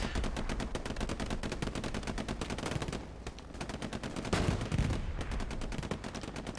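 Gunfire in the Hell Let Loose video game as a light tank fires HE shells, dense rapid bursts of shots with brief lulls and heavier booms, loud and continuous with no talk.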